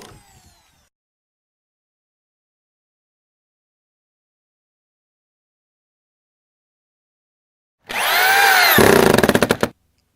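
A power drill drives a screw into plywood on a skateboard halfpipe deck support beam, one loud, steady whir of about two seconds ending in a few sharp stuttering bursts, after a near-silent stretch.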